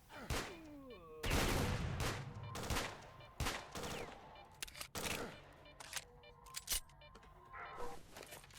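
AK rifle gunfire inside a video game: loud bursts of automatic shots come in several clusters across the clip, with game effects between them.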